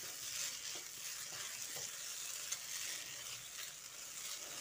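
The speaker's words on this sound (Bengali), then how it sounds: "এবার এই পর্যায়ে আমি আরও একটু ঘি দিয়ে দিচ্ছি। ঘিটা দিয়ে মিশিয়ে নিচ্ছি।" Semolina for sooji halwa frying in ghee in a pan over a low flame, giving a steady, soft sizzle with faint scraping as it is stirred, and no voices.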